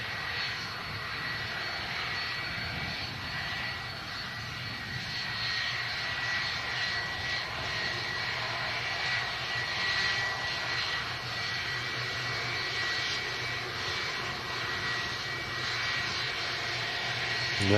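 An airplane arriving at Manchester Airport gives a steady, loud engine roar that holds through the whole stretch with only slight swells, with no voices over it.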